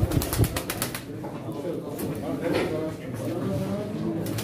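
Pigeons flutter and flap their wings at a Turkish pigeon auction, mixed with soft bird sounds and crowd noise while an auctioneer and buyers talk loudly over them throughout.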